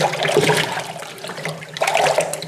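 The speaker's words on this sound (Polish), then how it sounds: "teraz spuszczamy tą wodę" Water rushes and gurgles steadily, draining noisily from a Komatz batter tank, with a brief dip in the middle before the flow surges again.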